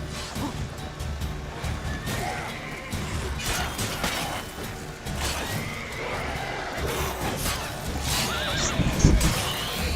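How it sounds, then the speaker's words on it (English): A horse whinnies repeatedly during Witcher 3 gameplay, its neighs rising above game combat noise with hoof clip-clop, thuds and crashes. "Hey, my horse!"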